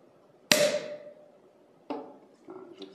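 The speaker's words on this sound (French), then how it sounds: "là je les débouche devant vous" A Perrier-Jouët Belle Époque 1999 champagne bottle pops open with one sharp, loud cork burst that rings and fades, followed by quieter clinks and handling noises.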